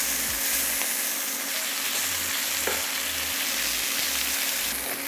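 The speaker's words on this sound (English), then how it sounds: "I'm going to flip them over on all sides just for maybe 30 to 40 seconds just to get that sear" Sous vide lamb chops sear in a hot pan and are turned on all sides, giving a loud, steady, close sizzle that runs unbroken with no talking.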